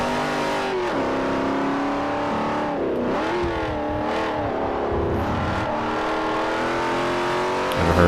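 Race car engines in Forza Motorsport 4 whine loudly and continuously, rising and falling in pitch through gear changes and revs, with no voices.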